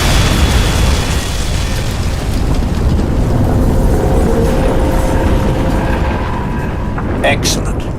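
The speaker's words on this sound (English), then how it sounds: "Explosion imminent." A loud, sustained explosion rumbles through the sci-fi shooter Crysis 2 Remastered, a dense continuous roar with a sharper burst near the end, while muffled game voices sit underneath.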